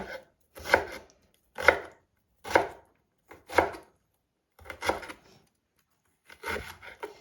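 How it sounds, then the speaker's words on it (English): Slow, steady knife strokes cutting through crisp cabbage, about seven distinct scraping chops spaced roughly a second apart, close up, with no voices. "Continue chopping this finely."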